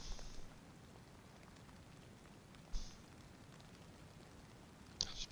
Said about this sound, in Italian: Ancora piove.